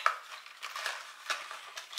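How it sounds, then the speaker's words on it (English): A drink with tapioca pearls being stirred, soft scraping and swishing in repeated strokes, faint and close with no voices. "I need to mix it up. I need to stir it."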